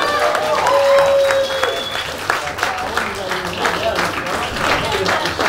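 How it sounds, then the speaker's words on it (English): An audience applauds poet Derrick Brown at a spoken word night, sustained full-room clapping running throughout, with cheers and scattered voices mixed in before it thins slightly toward the end. "Another round of applause, please, for Derrick Brown"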